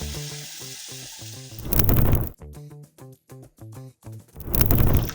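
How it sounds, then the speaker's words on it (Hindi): About 1.5 tablespoons of garlic frying in oil for a chicken cheese handi bursts into two loud, short sizzles over rhythmic background music that carries the rest. "लहसुन अच्छे से फ्राई हो चुका है।"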